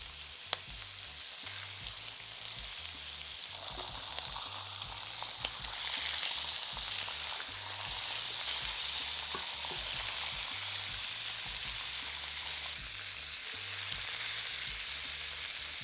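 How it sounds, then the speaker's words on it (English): Pork chops searing in hot oil over high heat, a loud, steady, bright sizzle that holds throughout with occasional faint spits and pops. "Place the pork chops in the pan and cook for about 3 minutes on each side until golden."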